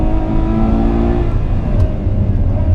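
A loud, close Ferrari 812 Superfast engine roars as it accelerates hard at the Fiorano track, its pitch climbing and then dropping abruptly with an explosive gear change.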